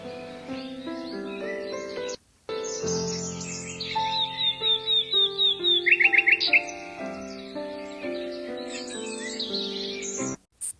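Melodic songbird, presented as a nightingale, trilling and whistling in bright repeated phrases with rapid chirp bursts over a soft sustained musical backing, with a short pause near the start.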